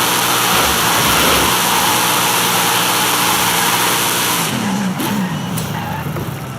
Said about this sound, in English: There's that throaty V8 there